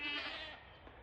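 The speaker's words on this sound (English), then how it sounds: "Come on, goats." A goat on a farm gives a single drawn-out bleat, close and fairly clear, fading over about a second with no talking.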